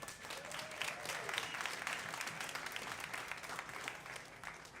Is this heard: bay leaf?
no